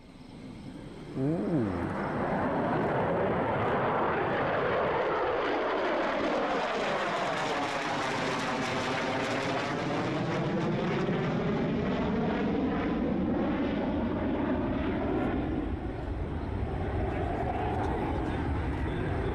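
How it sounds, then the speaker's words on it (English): A B-2 Spirit stealth bomber makes a low pass, its loud engine roar rising and sweeping in pitch as it closes and passes, then holding as a sustained, heavy rumble for the full stretch. "This B-2 Spirit making a low pass."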